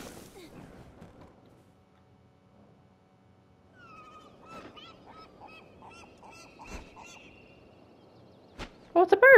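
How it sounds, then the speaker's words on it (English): A bird calls in a circular forest clearing inside Wo Long: Fallen Dynasty, with a run of short, honking, goose-like cries in the middle and louder squawks at the end, above quiet game ambience. "Oh, it's a bird."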